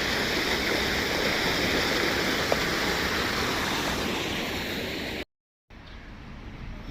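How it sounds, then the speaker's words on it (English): A rain-swollen river rushes through the centre of Bath at night. It is a loud, continuous, even roar of water with no voices, and it cuts out abruptly near the end. "The river runs right through the centre."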